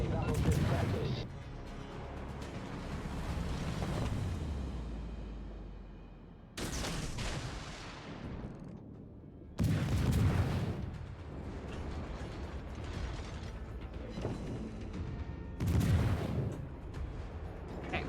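Naval gunfire from a warship in a World of Warships-style game featuring HMCS Haida: several heavy broadband booms with long decaying rumbles, spaced apart amid continuous mechanical game noise and faint voice chatter.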